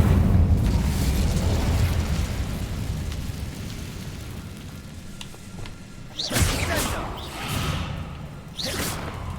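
An Incendio fire spell cast in the video game Hogwarts Legacy: a loud fiery rumble that slowly fades, then several sharp whooshing bursts of flame in quick succession, with no talk.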